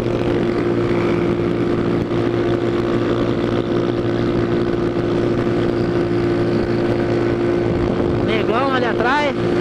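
Motorcycles ride by on a road in Brazil, their buzzing engines droning close and loud with rising and falling revs near the end, while people talk over the noise.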